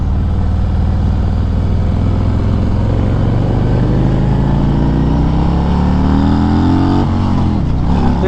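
A 2021 Harley-Davidson Road King Special motorcycle engine drones steadily on a freeway, its pitch climbing gradually as it revs higher, then dropping briefly near the end as it shifts gears.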